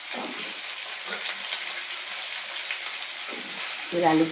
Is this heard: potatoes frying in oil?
yes